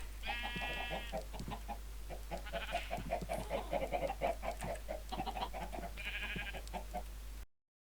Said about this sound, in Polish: chodźcie kurczaki tu